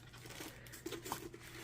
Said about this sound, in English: the canvas is in another plastic bag also